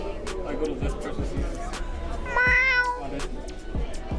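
A cat meows once, a short, bright, rising call that sits over ongoing indoor chatter and background voices.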